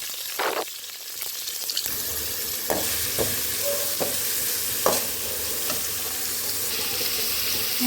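Onions and curry leaves frying in hot oil for a Tamil-style mutton gravy, a steady close sizzle with sharp stirring scrapes and clinks at irregular intervals, no voices.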